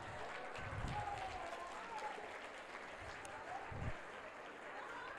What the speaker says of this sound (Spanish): Los demás, vamos a darles un fuerte aplauso